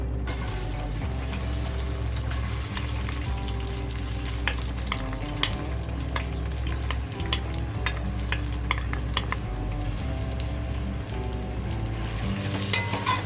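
Two sliced onions sauté in half a cup of oil in a pot, a continuous close sizzle with occasional clicks and stirring scrapes throughout and no voices.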